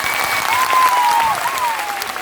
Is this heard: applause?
yes